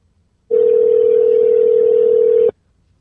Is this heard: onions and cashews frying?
no